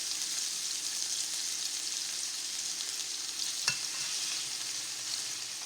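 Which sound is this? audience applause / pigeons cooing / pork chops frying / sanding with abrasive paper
pork chops frying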